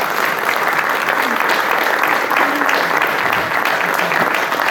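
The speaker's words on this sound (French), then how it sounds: "on peut applaudir cette belle prestation." Loud, sustained audience applause after a performance before a jury, a thick continuous wash of many clapping hands that stays even throughout, with a faint murmur underneath.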